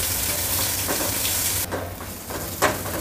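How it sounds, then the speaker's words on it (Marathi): Thinly sliced onion sautéing in a pan for an okra dish, a steady loud sizzle that drops slightly partway through, with a few light stirring scrapes. "कांदा चांगला आपण परतून घेऊया।"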